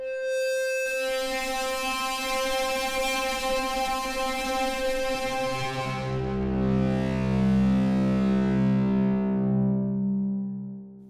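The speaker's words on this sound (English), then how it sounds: "and then more classic distortion." Classic distortion effect from the Magnetica Redux Kontakt library, a sustained, harmonically rich buzzing tone that swells and shifts lower partway through, then holds loud and steady, with no voices.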